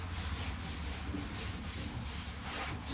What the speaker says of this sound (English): Sand that stuff off it there.